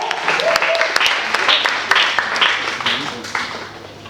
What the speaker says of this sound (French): je vous demande avec énergie d'applaudir celui qu'on appelle Pi, a.k.a. Pili Pili